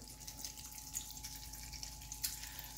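Water poured from a tap or jug into a cooking pot of vegetables, a faint continuous trickle with small splashy drips, steady and low in level throughout.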